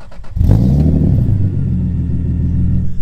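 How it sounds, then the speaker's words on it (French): A Toyota Supra MK4 fitted with a very large exhaust starts up: a brief starter whir, then the engine catches with a loud deep burst and settles into a heavy, booming idle rumble close by. "on va filmer le démarrage. On va déjà voir un petit peu ce que ça donne avec un échappement aussi gros."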